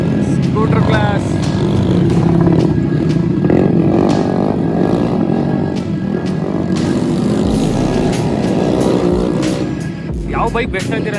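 Scooter-class race engines at a dirt racing carnival make a steady, loud, buzzing drone with rising revs, and people talk over the engine noise throughout.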